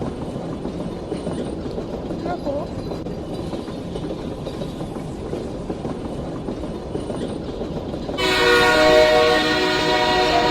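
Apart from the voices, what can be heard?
metro train running on the rails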